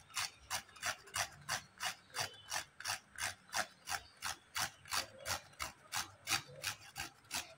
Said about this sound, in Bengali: আমরা এর মধ্যে এবার জায়ফল গুঁড়ো করে দেবো সামান্য